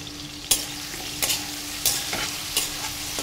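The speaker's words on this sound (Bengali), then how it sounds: "চুলার আঁচ কমিয়ে আমি এই ভাজিটি করে নিব এবং মাঝে মাঝে ঢাকনি উঠিয়ে আমি নেড়ে চেড়ে নিব যেন নিচে লেগে না যায়।" Pumpkin and shrimp cooking in a covered pan over low heat, a soft steady sizzle broken by four or five sharp spatula scrapes at regular intervals.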